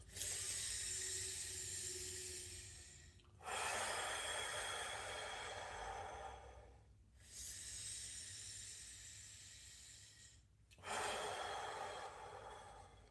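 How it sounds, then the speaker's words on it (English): Deep meditative breathing, slow inhales and exhales drawn audibly through the airway, a few long breaths separated by brief quiet gaps, close and soft with no talking. "So we'll breathe in and then out."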